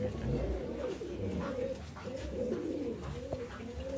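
Pigeons offered for sale in Bangalore coo steadily in a low, rolling murmur, several birds overlapping close by with a faint chirp or two on top.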